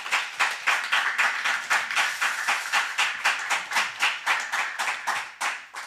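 A church congregation claps together in a steady, fast rhythm, a dense crowd of hands beating evenly for several seconds and then fading at the end, with no speech over it.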